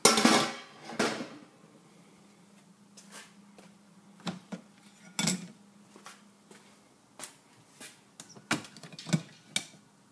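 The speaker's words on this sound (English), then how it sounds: "See if we can pop the lid and take a peek" Metal lid of a homebrew mash tun for a spiced winter warmer ale, lifted and handled with sharp clanks and knocks, one loud at the start, then scattered lighter taps and rattles in a quiet room.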